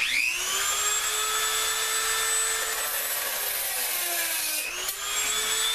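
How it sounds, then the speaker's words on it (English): A Dremel rotary tool whines steadily at high pitch as it cuts through model railroad rail, a loud continuous grinding tone that dips briefly near the end before resuming. "I prefer the Dremel because, like, as you just saw right there, it slices through like butter"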